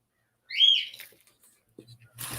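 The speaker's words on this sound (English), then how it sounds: "Let me shut my door so we don't have to hear my bird chiming." A pet bird chirps and whistles indoors in a quick bright burst near the start, followed by fainter calls, with a voice and household noise near the end.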